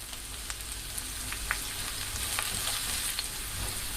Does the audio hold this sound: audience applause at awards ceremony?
no